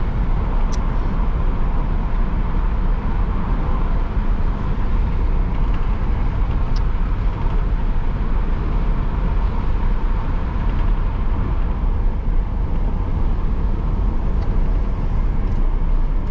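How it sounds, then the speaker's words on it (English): A Ford Crown Victoria Police Interceptor with heavy rust drives steadily along, its engine and road rumble forming a continuous, loud, even drone from start to finish with no voices. "Ford Crown Victoria Police Interceptor, has the badge on the back."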